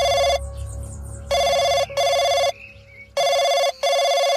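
A telephone ringing during a call, loud electronic ring bursts in a repeating on-off rhythm, about five rings with short pauses between them.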